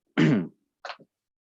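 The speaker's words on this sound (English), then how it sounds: "I keep muting because I'm coughing my head off." One sharp, harsh cough bursts out close by, followed a moment later by a shorter, softer throat-clearing grunt, then silence.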